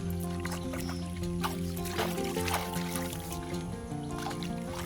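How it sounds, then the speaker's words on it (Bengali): Things being washed in water at a stone-stepped village pond, with close, steady splashing, sloshing and trickling, set against a layered background of tonal hums and chatter. "এখানে একবার পরিষ্কার পরিচ্ছন্ন করে ধুয়ে নেবো এগুলো"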